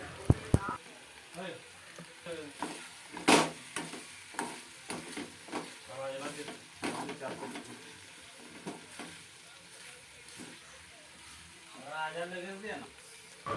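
Pasta mixed with tomato ketchup is stirred in a pan, giving soft sizzling and intermittent scraping and clinking of the spoon against the pan, while someone talks at moderate volume.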